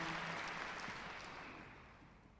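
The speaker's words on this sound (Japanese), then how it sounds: "대사님께 다시 한번 큰 박수 보내주시면 감사하겠습니다" Concert audience applause for an ambassador at a Korea-Japan commemorative concert, a dense wash of clapping from a large hall crowd that slowly fades over a couple of seconds.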